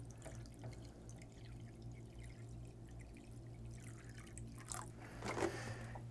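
Water poured into an ultrasonic cleaner tank to top it off over a submerged gun part, a faint trickle that swells into a louder splash near the end, with no talk.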